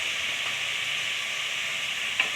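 Mutton frying in a pan with ginger garlic paste and salt, a steady close sizzle with a faint scrape of stirring and one small clink near the end.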